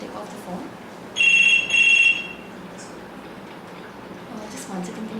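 A telephone rings indoors during a talk, two electronic ring bursts in quick succession, fairly loud and bright over faint room murmur, then stops.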